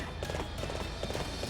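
Horse hooves gallop in Hyrule Warriors, a quick regular clip-clop beat under busy game sound, moderately loud and steady, with no talk over it.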